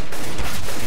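CS:GO gunfire rattles loudly in a rapid burst, shots blending into a dense, continuous volley.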